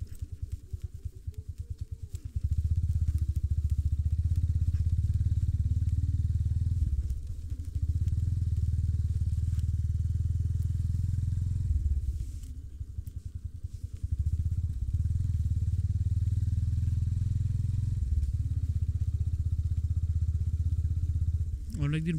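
A motorcycle rides over a rough, broken road, its engine a steady low rumble with bumps and rattles, briefly dipping around a few moments as the bike jolts along.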